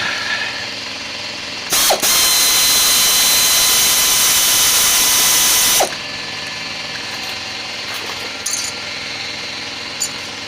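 An air ratchet or impact tool works on a brake caliper bolt of a 1978 Dodge W150 truck, a loud, continuous, high-pitched whir lasting about four seconds between short bursts and quieter shop noise.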